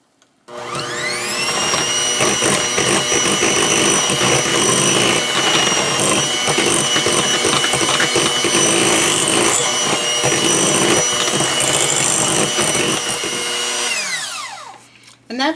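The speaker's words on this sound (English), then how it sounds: "then we're just going to mix that together" A mixer blends butter tart filling with added cream, running as a loud, steady motor whir for about fourteen seconds before winding down and stopping.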